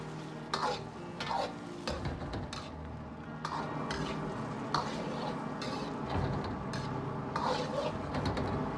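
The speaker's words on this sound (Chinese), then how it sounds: "用勺子推动，让豆腐都浸泡在汤汁中，保持中火烧至2分钟" A spoon pushes tofu through sauce simmering over medium heat in a pan, making steady scraping and knocking sounds against the cookware over a soft bubbling sizzle, with no talking.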